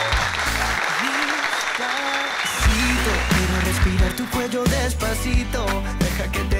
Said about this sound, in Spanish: Un aplauso para el gran Mariano Rivera, el mejor relevista en la historia del béisbol.